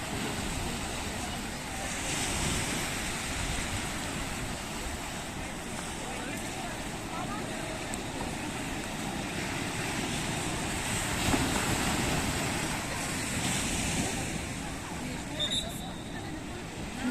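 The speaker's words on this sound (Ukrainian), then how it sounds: "дивіться, які хвилі, бачите, як розбиваються у берег" Ocean waves break on the shore at Puerto de Santiago, Tenerife, a steady rushing surf with gusts of wind buffeting the microphone throughout, and no clear voices over it.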